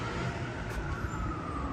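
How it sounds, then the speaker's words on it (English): A New York City emergency vehicle siren wails on a West Village street, a sustained tone riding over dense traffic rumble and city noise. "the gentle sounds of New York City sirens"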